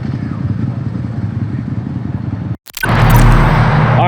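A Ducati Panigale V4S motorcycle engine idles with a steady low throb, then after a brief gap roars louder and closer.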